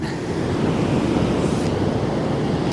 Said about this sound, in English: It's certainly quite a big sea.